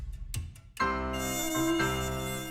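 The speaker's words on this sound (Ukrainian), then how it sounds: "Кляті комарі, дайте мені спокій!" Mosquitoes in a cartoon whine with a loud, sustained high-pitched buzz that starts after a few short clicks and drones on steadily close up.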